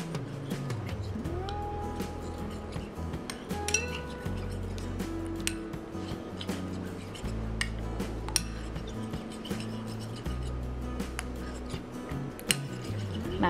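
A spoon scrapes and clinks against a bowl while mango pudding mixture is stirred, steady irregular tapping and swishing running throughout under background music.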